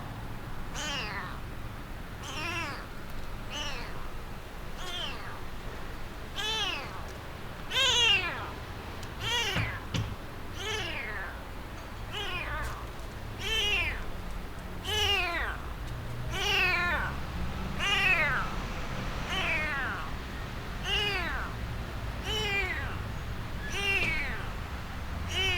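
Repeated meows from a stray kitten and other stray cats, fairly close, coming in a steady series of short calls over a low background hum, with some voice faintly present.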